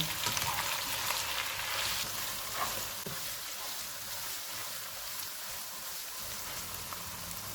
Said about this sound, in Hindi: 500 ग्राम बीफ का कीमा। चूल्हे को मीडियम रखेंगे, इनको 4 से 5 मिनट तक भूनेंगे।